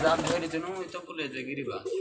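A large pigeon coos softly and low nearby, partly under people talking.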